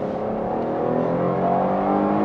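A 2020 Cadillac XT6 large SUV accelerates in Tour mode with front-wheel drive, giving a steady, moderately loud engine hum that climbs slightly over a couple of seconds, heard from inside the cabin with no voices.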